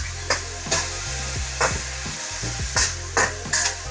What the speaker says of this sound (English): I'm gonna come back in with my shallots and garlic. And then I'm gonna start with my shrimp.